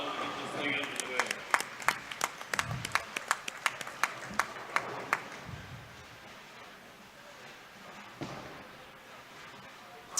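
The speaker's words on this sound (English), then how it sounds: "let's get them off to a real nice round of applause" Audience at a bowling team challenge gives a round of applause, sparse scattered claps thinning out over the first half, with a voice speaking over the crowd.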